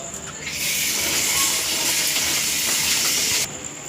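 Maggi noodles go into hot water for boiling, giving a loud sustained hiss and bubbling that starts abruptly and runs for about three seconds before stopping sharply.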